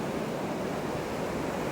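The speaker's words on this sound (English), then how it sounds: "they are enjoying the big waves" Big Atlantic Ocean waves breaking at a beach, a steady, dense roar of surf with wind noise on the microphone, loud and continuous with no talking.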